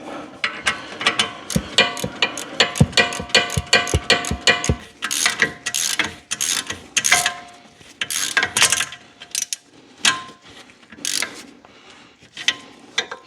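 A hand wrench ratchets a stock bolt tight on a car's front brake, a loud close series of rapid clicking bursts with short pauses between strokes and no talking.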